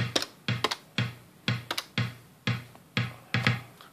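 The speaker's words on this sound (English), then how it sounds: "I'd like to put in the bass drum first so that I have kind of a metronome here" Steady Roland TR-707 drum machine bass drum pattern, punchy electronic kicks falling on an even beat about twice per second, with crisp clicky accents between some beats, heard clearly with no voices.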